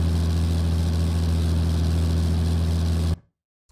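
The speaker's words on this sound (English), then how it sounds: "So this is the BMP engine sound, just with a linear frequency response speaker." Engine sound from a BMP vehicle played through a linear frequency response speaker: a steady, loud, droning rumble with strong bass hum, continuous for about three seconds before cutting off abruptly into silence.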